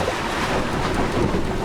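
A sailing catamaran moves through waves about 40 degrees off the wind in 15 to 16 knots, with steady rushing water and heavy wind buffeting the microphone, loud and continuous.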